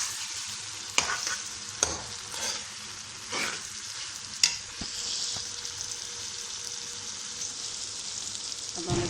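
Separately fried ingredients are stirred together in a hot pan, with a constant low sizzle broken by repeated scraping strokes and a few sharp clinks of the spoon against the pan, heard up close without talk.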